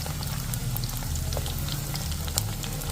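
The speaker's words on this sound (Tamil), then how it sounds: "வந்து இஞ்சியும் பூண்டும் போடுறேன் இதுவும் நல்லா வதங்கணும்" Ginger and garlic fry in oil for a pirandai (adamant creeper) pickle, giving a steady, moderately loud crackling sizzle with scattered small pops over a low rumble throughout.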